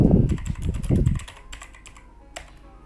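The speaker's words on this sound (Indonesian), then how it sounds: "Lalu setelah itu kita ketik unlock tables." Someone types on a computer keyboard while entering a database command, with rapid close key clicks in a short burst, then a pause and a single final keystroke.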